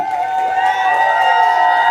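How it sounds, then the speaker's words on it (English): Live audience at a Las Vegas poetry show giving a steady wash of crowd noise, cheering and scattered clapping and snapping throughout, loud and continuous with no pauses. "Y'all are snapping. Y'all are clapping."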